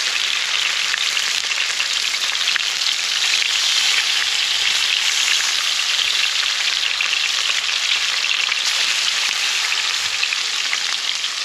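Salmon fries flesh side down in red-hot oil in a pan, with a steady, loud, continuous sizzle that holds evenly throughout.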